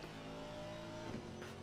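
A BMW race car engine in a racing video game at Silverstone during a six-hour race drones steadily with a tonal hum, quiet and even, with a brief rise near the end.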